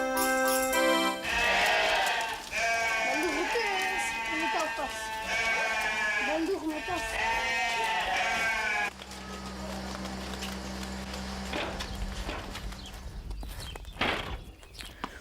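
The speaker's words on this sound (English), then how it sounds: "We raise goats for their milk." Goats bleat repeatedly on a dairy farm where they are raised for milk, a wavering cluster of cries rising over a speaking voice, then fading to quieter farmyard rustle.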